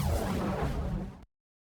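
A dense, roaring whoosh of a magic flame effect with a shimmering, chorused texture, loud and steady before cutting off abruptly.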